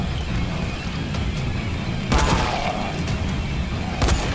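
Heavy, booming shotgun blasts in Dying Light, a couple of sharp reports over a dense, noisy game backdrop, with one strong shot midway and another near the end.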